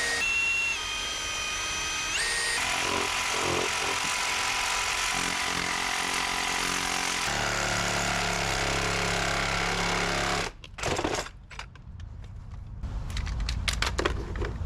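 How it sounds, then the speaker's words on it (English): A power drill and saw work through a basement wall to open a hole for a washer hose, a loud, steady grinding drone that cuts off partway through and is followed by scattered scraping and knocking bursts close by. "I'm also going to do a combination of just drilling a bunch of holes all around it and then cutting it out"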